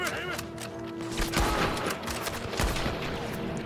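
Gunfire in the video game Red Dead Redemption 2: a loud, dense volley of shots and sharp cracks, with heavier blasts around the middle and near the end.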